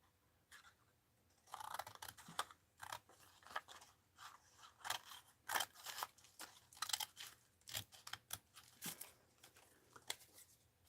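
Scissors snip through paper in a run of sharp, crisp cuts with short pauses between them, close up and with no voices, while a paper pattern is cut for a rag doll cloche hat craft.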